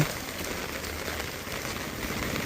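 Steady rain falls without a break, a soft, even hiss of drops on surfaces, fairly faint and unchanging, with no voices.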